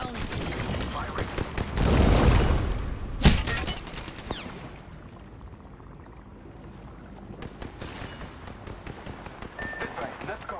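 Gunfire crackles in the battle royale game Apex Legends as bursts of shots and sharp cracks come amid other game noise, with one loud blast near the middle, a quieter stretch after it, and scattered shots near the end.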